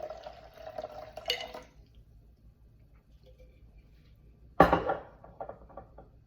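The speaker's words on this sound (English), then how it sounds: "So I'm going to strain about 2 cups into my blender." Dandelion liver-support tonic is strained into a blender. A short trickling pour with light clinks fades into quiet, and then a sharp close clatter of kitchenware is followed by a few smaller knocks.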